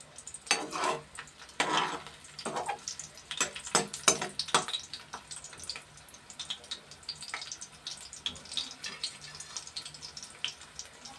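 Garlic hits hot oil and fries with irregular crackles and sizzling bursts, fairly close, settling into a lighter intermittent spatter.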